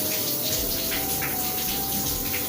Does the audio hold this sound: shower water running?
yes